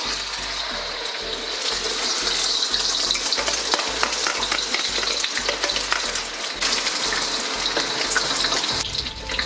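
Rice stir-frying in a very hot restaurant-style wok with oil near smoking, giving a steady loud sizzle and crackle with a rhythmic clatter of tossing or stirring throughout, no voices.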